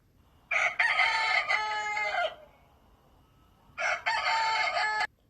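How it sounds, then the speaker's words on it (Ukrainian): A rooster crows loudly twice, a long full cock-a-doodle-doo followed by a pause and a second shorter crow, close and clear. "Так, це півник укарікає."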